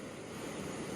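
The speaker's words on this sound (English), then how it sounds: "Nice little waterfall to reward our finish." A small waterfall along the Great Divide Trail gives off a steady, faint rushing hiss of falling water, unbroken and even throughout, with no voices.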